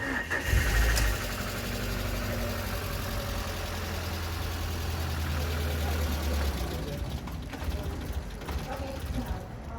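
A car with a long-standing no-start fault is cranked, a loud, steady grinding starter whir with ratcheting mechanical texture that carries on for several seconds, with voices heard faintly in the background.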